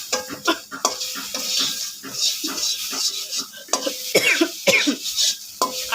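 Stirring and sizzling in a pan while noodles cook, with scraping utensil strokes and short bursts that may include a cough, close and uneven over several seconds.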